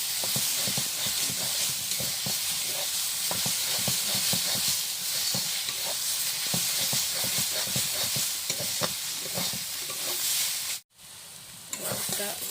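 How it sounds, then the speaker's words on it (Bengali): Khesari (grass pea) greens stirred and fried in a wok, with a steady loud sizzle broken by frequent scraping and clattering strokes of the spatula, then a brief dropout near the end before the frying resumes. "শাকটা ভাজার সময় শুধু নাড়াচাড়া করতে হবে"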